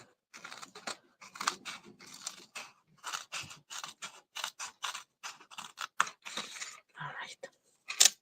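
Scissors snip through paper for a handmade card from a Daisy Daydream Paper Pumpkin kit, a rapid run of close, crisp cuts with short pauses, carrying on steadily throughout.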